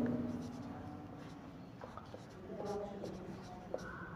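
A pen scratches softly across paper while a physics problem solution is worked out, with short scribbling strokes under a quiet voice explaining the steps.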